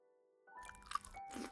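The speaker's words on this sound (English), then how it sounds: "I am eating lunch." Someone eating lunch, with close, quiet crunching and squishy chewing bites after a faint tonal start, two or three distinct crunches in about a second.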